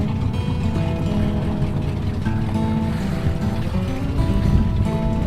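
A twin-engine lake boat motors through the water, its engines giving a steady low drone under wash and rushing water that carries on unbroken and close.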